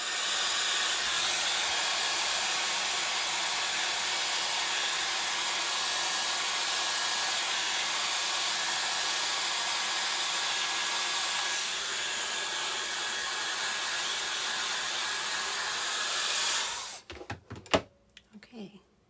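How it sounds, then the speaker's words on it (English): Hair dryer running steadily on its cold shot setting while styling a monofilament wig, a loud continuous broadband blow lasting most of the time before cutting off abruptly into brief handling clatter. "Now I'm going to give it a blast with a cold shot."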